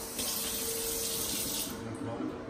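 A kitchen faucet runs in a house, giving a steady hiss of flowing water into a sink that lasts the whole moment, close and fairly loud.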